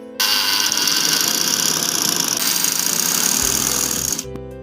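A sewing machine runs steadily, stitching decorative cord onto fabric, with a loud continuous motor whir and rapid needle chatter for about four seconds before stopping abruptly.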